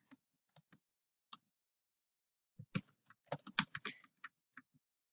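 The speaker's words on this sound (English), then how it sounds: "you want to write your site name like you want it to appear on your site" A site name is typed on a computer keyboard: sparse, faint isolated key clicks at first, then a quicker burst of close keystrokes, with no talking.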